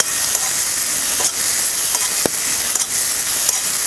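Ridge gourd roasts on a hot pan with a continuous, loud hissing sizzle. Faint ticks and crackles scatter through it, and no one talks.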